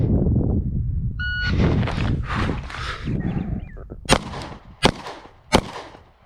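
A shot timer beeps, then a Glock 48 pistol fires three sharp, loud shots spaced under a second apart in a failure-to-stop drill from concealment, preceded by rustling movement.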